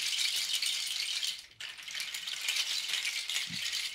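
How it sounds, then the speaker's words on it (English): Seed-filled triple rope shaker rattles steadily with a bright, hissy, organic texture, pausing briefly midway before continuing, close and fairly quiet with no voices. "So this is the triple rope shakers, and the seed, which as you can hear is I'd say what, a little brighter, a little more organic sounding"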